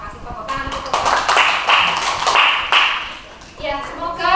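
Applause from a class of students in a school lesson, a dense run of clapping near and fairly loud that swells through the middle, with children's voices mixed in before and after.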